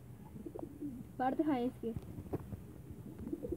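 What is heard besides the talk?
pigeons cooing, Ferozpuri and Teddy cross breed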